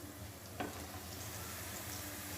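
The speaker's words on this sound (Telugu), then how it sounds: "నేను ఇప్పుడు టమాటా ముక్కలు వేస్తాను ఉల్లిపాయ ముక్కలు చక్కగా మగ్గిపోయినాయి" Tomato pieces tipped onto sautéed onions in a pan: a soft thud near the start, then a faint, even sizzle that carries on quietly.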